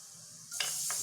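Cumin and turmeric powder being stirred into hot oil in a pan, a steady sizzle that flares with two brief scraping stirs near the end, close and alone.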